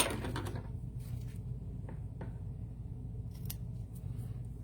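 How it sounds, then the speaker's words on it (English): Scissors trimming the ends of a sheet of cardstock for a stamped card: a few close, crisp snips near the start, then quieter isolated cuts over a low steady room hum. "Go ahead and trim up my ends so that they'll fit inside my envelope when the time comes."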